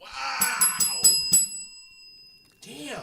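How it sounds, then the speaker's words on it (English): A hand bell is rung several times in quick succession, bright metallic dings with a lingering shimmer that fades out, followed by a voice speaking nearby. "I got my bell ready."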